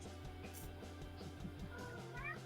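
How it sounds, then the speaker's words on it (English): A cat meows once, faint and distant, near the end, over a quiet room hum and low background murmur at an evening gathering. "I heard a cat."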